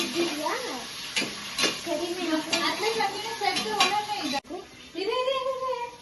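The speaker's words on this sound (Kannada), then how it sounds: "ಈರುಳ್ಳಿ ಆ ತರ ಸ್ವಲ್ಪ ಬ್ರೌನ್ ಆಗ್ಬೇಕು" Onions frying in a pan for vegetable pulao, stirred with a utensil, giving steady sizzling and scraping at close range while a voice talks over it.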